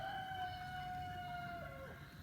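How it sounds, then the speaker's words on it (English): A rooster crows in a long, drawn-out call at a distance, faint over a steady low background hum. "You hear my roosters in the background?"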